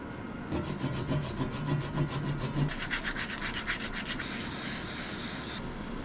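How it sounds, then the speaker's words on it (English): Steady rubbing of a rag buffing wax on a turned wooden surface, rhythmic back-and-forth strokes, close and moderately loud with a faint background hum. "With a rag, I buff the wax and bring the surface to a nice shine."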